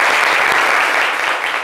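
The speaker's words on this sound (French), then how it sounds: "applaudissez Marie-Sandrine, d'accord" Applause from a TV studio audience for a guest named Marie-Sandrine, dense steady clapping that holds at full strength and eases slightly at the end, with no voices over it.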